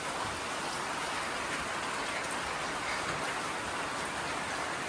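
Steady, dense rain falls during a cold spell after a hot day, a continuous hiss of drops on surfaces that stays even and fairly loud throughout with no talking.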